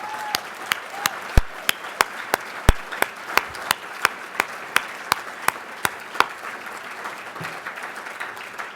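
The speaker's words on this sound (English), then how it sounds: "One more round of applause." Audience applause at the 2013 Boston Dining in the Dark benefit dinner: a steady wash of clapping with distinct sharp claps standing out close by in a regular rhythm, sustained throughout.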